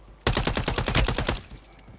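Automatic gunfire in Call of Duty Warzone Resurgence, a loud close burst of rapid rhythmic shots lasting about a second, then fading into quieter trailing shots.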